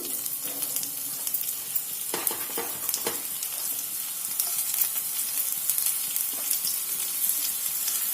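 Green chilies frying in hot oil for spicy pepper chicken, giving a soft, steady sizzle close by, with a few sharper crackles and stirring clicks early on.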